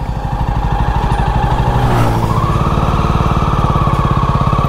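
A motorcycle engine runs steadily and loud near the microphone as a new bike is ridden, with a pulsing mid-pitched drone and a brief rise in revs partway through, with no talking.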